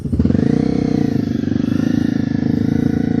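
A motorcycle engine idles and revs in a steady rapid pulsing beat on a race track, loud and close throughout, with no talk.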